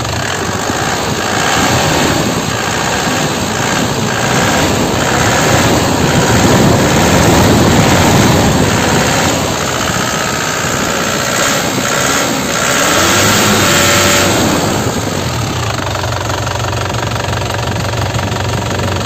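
A 2010 LS Turbo diesel engine in original, like-new condition with no blow-by smoke is revved repeatedly, giving a loud, close, rough roar that swells and falls in bursts, with no talking.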